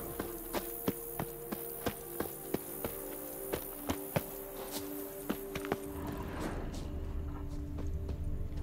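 Horse hooves in The Witcher 3 video game, a steady clip-clop of hoofbeats at a walking pace, fairly close and clear, until a rushing, windy noise takes over near the end.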